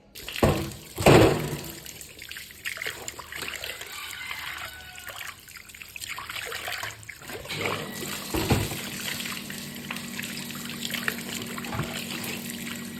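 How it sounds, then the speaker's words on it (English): Tap water runs steadily into a sink while a mortar and pestle is washed, a continuous trickling stream with brief louder splashes near the start and a clatter later. "And then you wash them in the running water"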